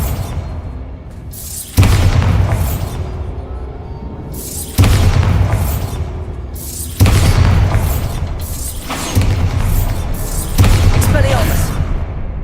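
Repeated Bombarda explosion spells in a Harry Potter video game: five heavy booms land at roughly two-second intervals, each one sharp at the start and rumbling away, with spoken spell calls mixed among them.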